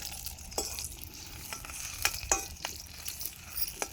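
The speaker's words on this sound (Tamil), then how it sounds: "எண்ணெய் காஞ்சிருச்சு, வெங்காயம் போட்டுக்கலாம்." Onions sizzle in hot oil in a pan on a home stove while a spoon stirs them, a steady frying hiss broken by scraping clicks, close and fairly loud.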